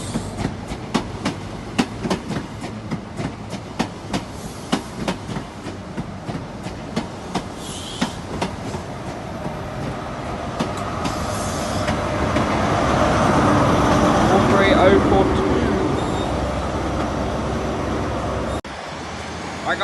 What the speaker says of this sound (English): Alright guys, it's the Plymouth train.